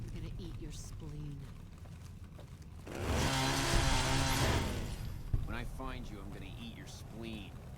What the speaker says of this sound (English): Let's chainsaw him.